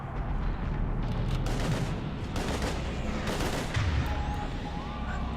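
Rapid bursts of gunfire mixed with booming explosions fill a firefight in the video game Mass Effect 3, dense and continuous, with no speech over the shooting.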